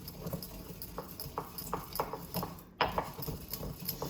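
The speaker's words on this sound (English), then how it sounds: "now I'm actually going to focus on really grinding this up" Herbs for a bath blend being ground by hand, giving a series of short scraping, knocking strokes in an uneven rhythm, fairly close and moderately loud.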